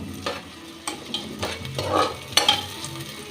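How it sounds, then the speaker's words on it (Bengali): Five onions and half a garlic bulb frying in a pan, a gentle continuous sizzle broken by repeated stirring scrapes at close range. "পেঁয়াজটা আমি খুব ভালো করে ভেজে নেব"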